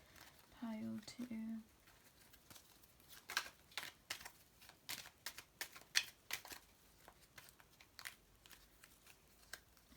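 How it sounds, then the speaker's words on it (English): A deck of starseed oracle cards is shuffled in soft, irregular bursts of riffling and flicking, quiet and close, after a brief spoken phrase at the start. "I'm going to shuffle a starseed card for you, pile 2."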